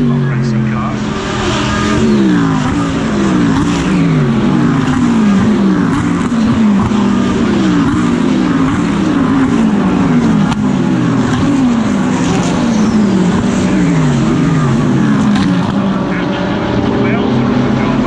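GT race cars, including a Mercedes and an Audi R8, at a 2022 GT World Challenge race at Brands Hatch, make a loud, continuous engine roar with repeated rising and falling pitch sweeps as they pass and shift gears, with talk over them.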